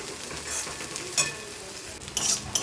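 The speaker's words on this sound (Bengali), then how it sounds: "দেখো বন্ধুরা, কত সুন্দর এটা ভাজা হয়ে গেছে" Okra frying in a pan as it is stirred, giving a soft continuous sizzle with a few brighter scrapes and spatters. It is close and fairly quiet, with no talk over it.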